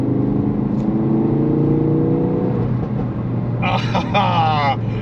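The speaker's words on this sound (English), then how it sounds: "that exhaust noise is perfect" A Ford Focus RS engine hums with a steady low drone from its standard exhaust, and a person's voice comes in briefly over it near the end.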